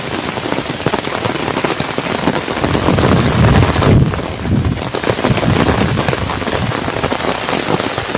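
A heavy monsoon downpour pours steadily outside a window, a dense hissing roar of rain on surfaces that swells louder midway, with no voices.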